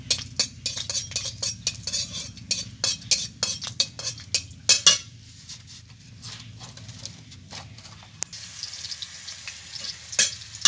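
Green chillies sizzle and fry in a pan while a utensil scrapes and clatters against the metal in quick repeated strokes, close and fairly loud over a steady frying hiss, no one talking.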